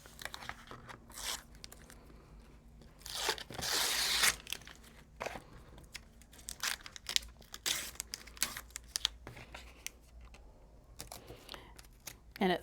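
Scored backing being torn off sticky tape, a sharp burst of tearing followed by scattered crinkles, crackles and handling noises at moderate distance.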